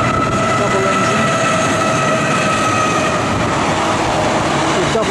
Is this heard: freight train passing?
yes